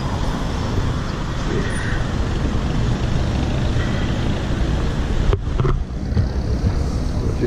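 Road traffic in Pattaya, with motorbikes and cars, passes as a continuous roadway roar with some wind buffeting, heard from the roadside.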